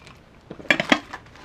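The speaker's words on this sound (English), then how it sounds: "lift the pot off of the stove, place it into the cozy, and then put the lid on the cozy" A cooking pot is lifted off a camp stove and set into an ultralight insulated cozy before the lid goes on, giving a few close, light metallic clinks and clatters that fall quiet quickly.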